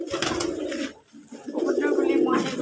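Pigeons on a Bangladeshi farm shared with hens give low, throaty coos that roll on steadily through the clip, close and fairly loud, with a brief quieter gap near the middle.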